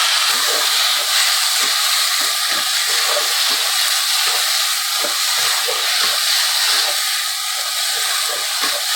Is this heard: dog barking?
no